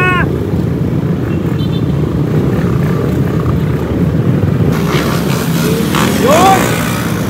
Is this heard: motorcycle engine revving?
yes